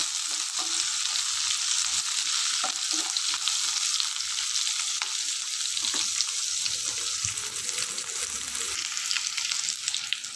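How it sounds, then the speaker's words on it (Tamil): Garlic and onions sautéing in oil, a steady close hiss and crackle running throughout, broken by occasional light stirring taps and scrapes. "அதுக்காக தான் பூண்டு முதல்ல எண்ணெயில் நல்லா வதக்கி எடுத்துக்கோங்க"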